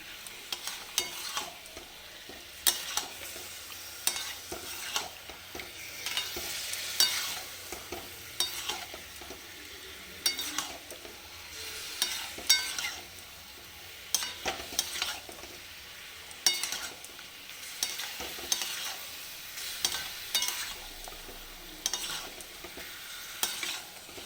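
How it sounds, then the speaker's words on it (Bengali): Mutton being sautéed with spices in a pan, a steady soft sizzle broken by repeated scraping stirs of a spoon against the metal, at a moderate level throughout with no talking. "মশলার সাথে মটন ভালোভাবে কষিয়ে নিচ্ছি"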